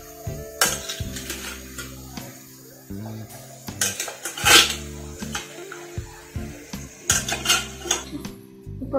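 Chicken pieces tipped into a pan of softened onion and tomato for spicy chicken biryani, with repeated metallic clinks and scrapes of a spoon against the pot in irregular bursts, close by.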